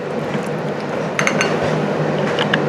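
Kousa squash being stirred in a pan: a few clinks and taps of a utensil against the metal ring out over a steady background hiss.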